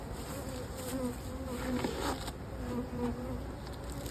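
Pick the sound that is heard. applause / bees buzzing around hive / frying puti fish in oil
bees buzzing around hive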